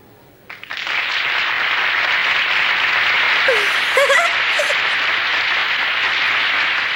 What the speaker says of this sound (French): Applaudissez-la bien fort.